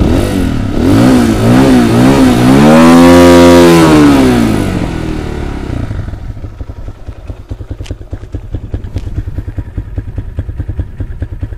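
A Minsk X200 enduro motorcycle engine revs up and down loudly and close for several seconds, a rising and falling mid-pitched roar. It then drops back to a steady, lumpy idle putter.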